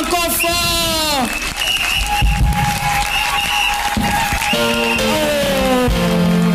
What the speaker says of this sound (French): acclame encore fort